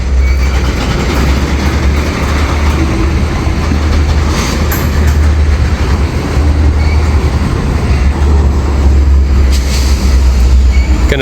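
A train shoves slowly backward to couple up, with a deep, steady rumble, occasional metallic squeals and clanks from the wheels and couplings, loud and close.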